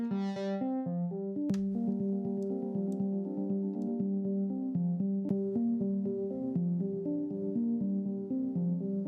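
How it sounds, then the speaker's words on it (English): A DSI Prophet 08 synthesizer plays a low-pass filtered saw wave in a string of sustained buzzy tones in a melodic line, softened and trailing into reverb and echoing delay repeats. "This first sound here is just a saw wave with a little bit of a low-pass filter"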